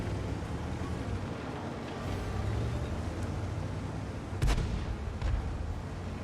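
Tank cannon fire during a tier 6 skirmish on the Redshire map in a video game, heard as two distant booming shots over a steady low engine rumble, fairly quiet overall.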